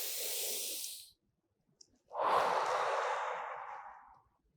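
Deep breathing in a stretching exercise: a long, breathy inhale followed by a louder, drawn-out exhale, close and alone with a quiet gap between them.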